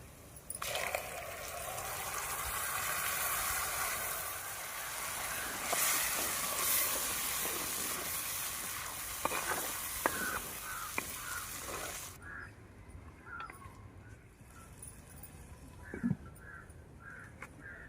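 Tomato and cashew paste sizzles and spatters in a hot pan for a mushroom curry, a loud broad hiss that cuts off sharply partway, leaving quieter bubbling and clinks.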